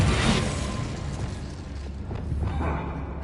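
An Incendio fire spell cast in Hogwarts Legacy gives a loud whooshing burst of flame that flares at the start and then trails into a rumbling crackle.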